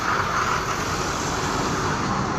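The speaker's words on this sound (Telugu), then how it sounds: "లారీ పోతుంది ఇక" A lorry passes on a roadside where a motorbike has run out of petrol, giving a loud, steady broadband road rumble that holds for the whole moment without easing.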